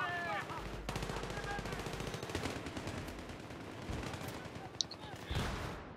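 Rapid automatic gunfire from the video game Battlefield 3 on a small close-quarters map, sustained bursts filling the whole stretch with a few sharper single shots near the end, loud and dense with a faint voice underneath.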